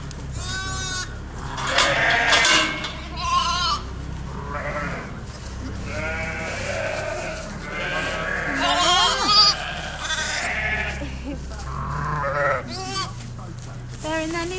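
Twin lambs bleat repeatedly in a farm pen, their cries overlapping in short wavering calls, with a low steady hum underneath and people talking now and then.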